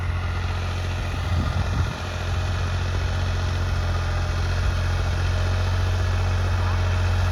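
A tractor runs a large rotavator in a field during potato sowing, heard as a steady, loud low engine drone with mechanical whine that continues unbroken, with a brief dip near two seconds.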